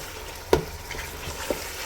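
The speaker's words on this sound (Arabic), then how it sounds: "نرميهم مع الشويبي والبصل والطماطم عملناها ندوروهم شوية نحركو" Tomato paste, onion and chwabi frying in a pan give a soft, steady sizzle, with a couple of brief scraping knocks from the stirring spoon.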